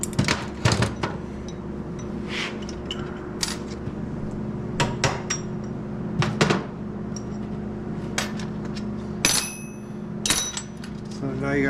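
A hammer striking a punch on a GM steering column, with sharp metallic taps at irregular intervals over a steady background hum in a workshop.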